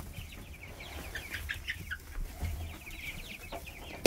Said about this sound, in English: And the baby chicks are in here.